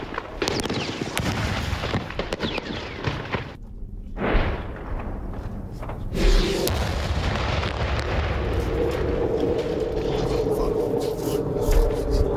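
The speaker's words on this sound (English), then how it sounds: "began with a heavy exchange of machine gun fire followed by loud explosions" Heavy machine gun fire and loud explosions during fighting in eastern Syria, a dense continuous barrage of bursts and booms close by, briefly dropping before resuming at full intensity.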